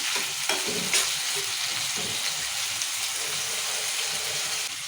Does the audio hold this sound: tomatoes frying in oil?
yes